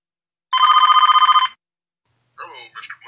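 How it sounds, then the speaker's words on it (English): A telephone rings in a farming video game, a steady trilling bell lasting about a second, then game voice audio follows after a short pause. "I got a phone call."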